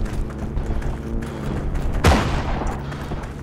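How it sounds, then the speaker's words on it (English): Gunfire in the online war game Heroes and Generals: a sharp, loud shot or burst cracks out mid-clip over a busy bed of game noise and rumbling effects. "I hear bullets"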